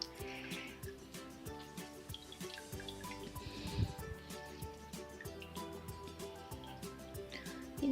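Water drips and trickles faintly as it is drained from freshly made homemade mozzarella cheese, with scattered soft drops and quiet splashes close by.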